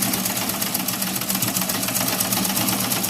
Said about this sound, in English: Just top stitch all the way around the pockets